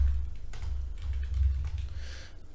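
Computer keyboard typing in a quick run of light clicks and taps, close and steady over a low background hum, with no talking.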